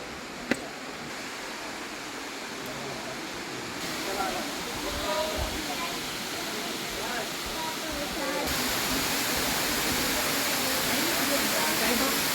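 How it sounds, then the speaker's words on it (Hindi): A steady rushing waterfall at the Rock Garden in Chandigarh, a broad continuous roar of falling water that grows fuller and louder toward the end. "फिर से एक और झरने की आवाज़ सुनाई दे रही होगी अब।"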